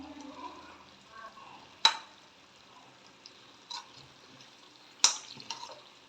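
Ghee is stirred as it cooks in a pot, with a few soft scraping strokes and two sharp clinks of a utensil against the pot, faint and intermittent over quiet background.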